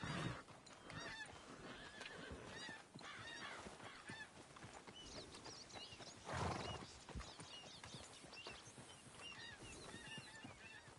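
A horse whinnies and neighs in the video game Red Dead Redemption 2, a loud close call set over a busy layer of hoofbeats and animal noises, with no talking.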